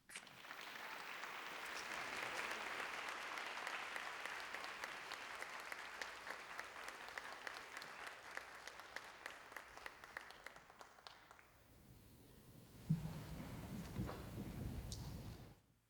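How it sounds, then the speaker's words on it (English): An audience at a university symposium plenary applauds a panel of diversity officers, a steady sustained clapping for about eleven seconds that then stops abruptly before a speaker's voice returns. "Give the panelists another round of applause."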